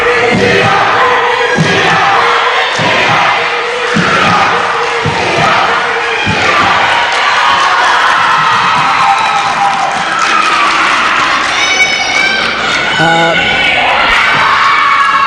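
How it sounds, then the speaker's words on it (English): Supporters of PDCI cheer loudly at a junior girls' volleyball final in a gym, mixing shouts, rhythmic chanting and clapping that stay near and loud the whole time. "PDCI is starting up a cheer"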